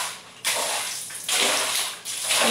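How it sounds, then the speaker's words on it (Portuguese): Water is thrown in three loud, rushing splashes onto a bathroom floor tiled in white, each gush sloshing and fading before the next, close by and with no talking. "Eu vou jogar essa água aqui."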